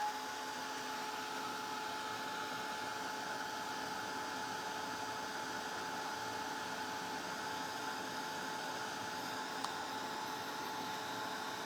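A hair dryer blows steadily on fresh paint on a denim jacket, its even whooshing hum running unbroken and fairly quiet for the whole stretch.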